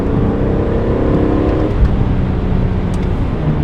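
BMW E46 M3 with SMG gearbox under hard acceleration in fourth gear, a loud steady engine roar holding throughout with a slight change in pitch partway, no talking.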